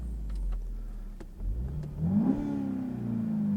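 A 2016 SEAT Ibiza Cupra with a 1.8 TSI engine and manual gearbox revs in sport mode: after a low idle, the engine swells into a rising rev that then settles into a steady, droning hum, heard alone.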